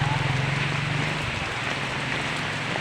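Heavy rain falls in a dense, continuous hiss with a steady low rumble underneath, loud and close throughout, with no distinct voices standing out.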